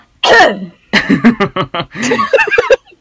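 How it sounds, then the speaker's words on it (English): Someone clears their throat loudly up close with a few rough coughing bursts, followed by short choppy throaty sounds. "Had to clear my throat."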